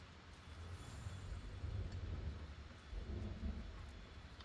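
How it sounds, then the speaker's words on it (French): A thunderstorm rumbles in Monster Hunter World, a low continuous roar of wind and rain that swells and fades steadily with no talking over it. "vous l'entendez bien en plus la tempête"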